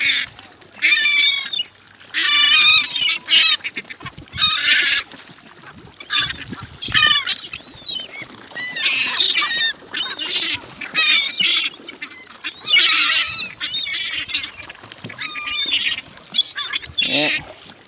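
Seagulls being fed in Stanley Park, loud close squawks and cries in repeated bursts from several birds, overlapping and continuing throughout.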